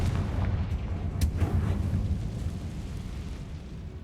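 A Confringo blasting spell detonates in Hogwarts Legacy, a heavy rumbling boom with a sharp crack near the start, then a long rolling low roar that fades slowly.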